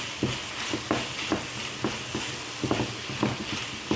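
Chicken for shawarma frying in a pan and stirred with a utensil, a steady sizzle under regular scraping strokes roughly every half second, close and alone.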